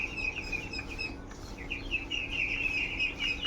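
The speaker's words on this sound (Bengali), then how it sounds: "এগুলো হচ্ছে আমাদের বড় হাঁস" Chinese ducks waiting for feed give a stream of repeated high, thin calls, overlapping and fairly continuous, faint against a soft farmyard background with no talking.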